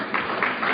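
Audience applause in a lecture hall during a talk on psychiatry, a short burst of clapping with swells, moderately loud and fairly dense.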